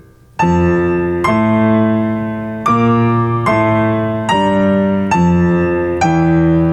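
A piano plays a slow hymn-like melody over low octave bass notes, eight full chords struck at an even pace, resonant and close.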